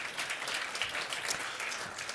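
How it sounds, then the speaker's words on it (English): An audience at a chemical recycling industry talk gives a warm round of applause, steady dense clapping from many hands that continues evenly for a couple of seconds with no speech. "Please give him a warm round of applause"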